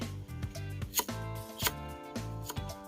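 A knife slices through bamboo shoots being prepared for pickling, giving several sharp, close cuts in a steady rhythm over a background of music.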